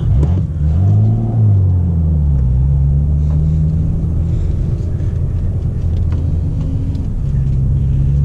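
An M2 sports car with a manual gearbox rumbles steadily while driving, its low drone rising and falling as the revs shift, with no talking.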